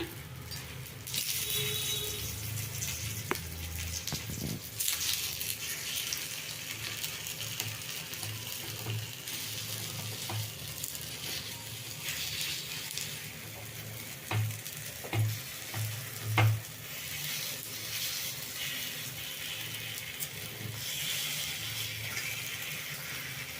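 Food sizzles steadily in a hot pan after being turned over, a close, continuous frying crackle with a few faint stirring scrapes and clinks, and no talking.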